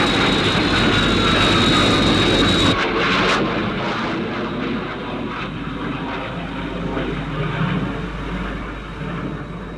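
A SHADO Sky 1 interceptor aircraft from the UFO TV series flies past with a loud, steady jet roar, shifting slightly partway through and continuing unbroken to the end.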